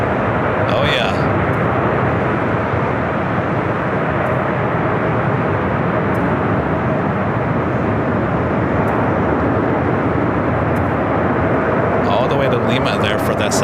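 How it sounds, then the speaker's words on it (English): A Polar Air Cargo Boeing 747-8 at Los Angeles International Airport roars steadily and loudly throughout, a dense continuous jet rumble with a voice speaking briefly over it near the start and end. "that's 747-8. Polar Air Cargo."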